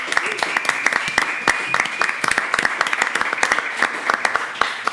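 Applause from a live audience at a band show, many distinct sharp hand claps rattling at an irregular pace, loud and close.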